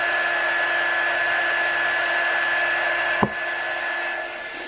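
A hair dryer blows steadily to dry paste on an eraser board, a constant close whir with one brief knock about two thirds of the way through.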